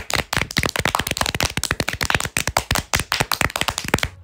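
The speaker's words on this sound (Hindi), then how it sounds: "चलो एक बार फिर नीलू के लिए ताली बजाते हैं" Rapid, crisp hand clapping in a Barbie doll cartoon, a quick, even run of sharp claps, close and continuous for about four seconds with no talking.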